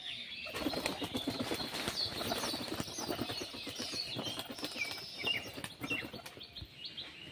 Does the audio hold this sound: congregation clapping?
no